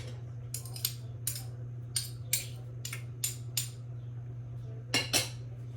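A metal spoon clinks and scrapes repeatedly against a dish or pot while cream cheese is added to a spaghetti sauce. About ten short, bright taps arrive in an uneven rhythm over a low, steady hum, close and fairly quiet.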